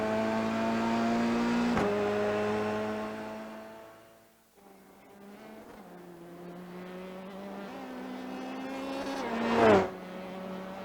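A Formula 3 race car in the iRacing simulator at Bathurst's Mount Panorama, its engine droning and rising through the gears, dropping away mid-run, then climbing back to a loud high-revving peak near the end.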